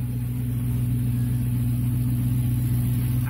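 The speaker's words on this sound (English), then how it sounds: "I've got the car running now." A BMW E39 540i V8 idles steadily after a thermostat install during a cooling-system overhaul, giving a continuous close, even engine hum with no revving.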